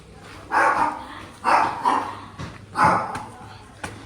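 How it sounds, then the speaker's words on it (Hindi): A dog barks loudly indoors at its own household in three distinct bursts spaced about a second apart, fairly close, with quieter room sounds between. "हमारे घर में हम ही को भौंक रहा है"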